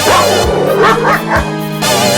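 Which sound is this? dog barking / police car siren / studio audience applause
dog barking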